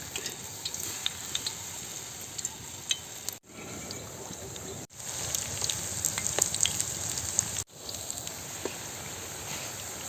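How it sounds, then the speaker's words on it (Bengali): Water hyacinth flower fritters sizzle and crackle in hot oil, a steady close frying hiss with small pops, broken by a few brief sharp cuts. "এই যে বড়া ভাজা হয়ে যাইতেছে"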